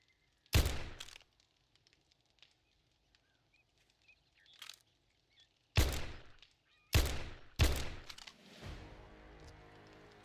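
A shotgun fires four loud, close blasts in the video game 7 Days To Die, spaced irregularly with the last three coming quickly, each leaving a short echoing tail over faint background noise.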